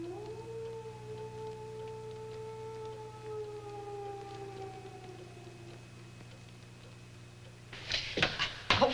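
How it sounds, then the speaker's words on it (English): A long, mournful wolf howl rises and holds in a horror film scene, distant and eerie over a low hum, followed by a few sharp thuds. "A wolf? Really, Mr. Martin?"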